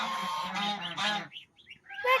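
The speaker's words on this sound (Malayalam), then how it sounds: "നമ്മൾ സിനിമയിലൊക്കെ കാണുമ്പോഴത്തെ കുഞ്ഞ് യെല്ലോ കുട്ടി താറാവുണ്ട്." Ducks give a few quick nasal, honking quacks close by, a short burst of calls followed by softer peeps and squawks.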